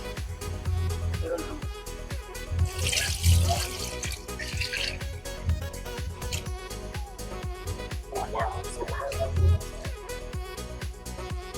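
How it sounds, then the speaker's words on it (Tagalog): Water runs from a tap into a cooking pot, a steady splashing pour under rhythmic background noise, while a person speaks briefly over it. "Tsaka po natin lagyan ng tubig."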